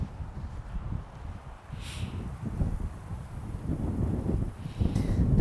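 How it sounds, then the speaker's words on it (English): Wind gusting outdoors across the microphone, a low rumbling buffet that rises and falls in strength, with faint rustling behind it. "The wind start picking up a little bit,"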